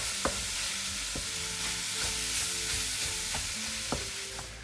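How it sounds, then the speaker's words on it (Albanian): Minced meat frying with onions in a pan gives a steady, close sizzle with scattered stirring clicks and scrapes, continuous throughout with no voices. "do ta skuqem për disa minuta derisa mishi i gryr të marrë ngjyrën kafke"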